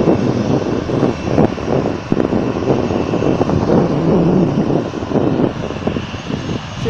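A Silk Air airliner's engines roar at Phuket airport near Mai Khao beach, a loud sustained rumbling drone that wavers and fades slightly toward the end, with no talking.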